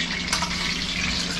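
Onion sizzling and frying in oil in a pan, a steady broadband hiss that holds evenly from start to finish, close by with no talk over it.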